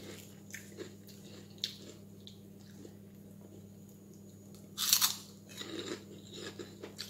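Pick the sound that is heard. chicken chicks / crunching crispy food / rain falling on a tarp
crunching crispy food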